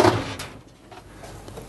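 An electric cooker's oven door is lifted off its hinges, giving a single close metallic clunk at the start before fading into quiet handling noise.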